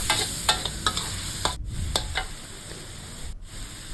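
Minced pork stir-fried with fish sauce, oyster sauce and sugar in a pan, a continuous close sizzle broken by repeated sharp spatula scrapes and taps, no talk.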